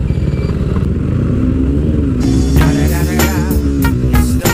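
A motorcycle passes in busy Sunday market-street traffic, its engine revving loudly and close with clattering mechanical noise over steady road rumble.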